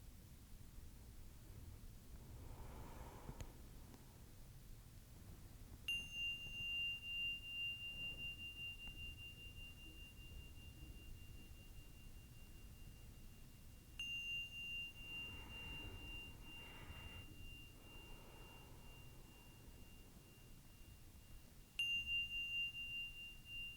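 Meditation bells struck three times during a quiet body scan session, each a clear sustained ring that lingers over soft background hiss.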